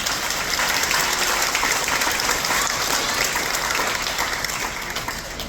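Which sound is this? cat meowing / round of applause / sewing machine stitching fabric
round of applause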